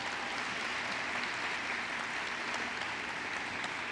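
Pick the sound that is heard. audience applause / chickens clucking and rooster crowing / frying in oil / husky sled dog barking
audience applause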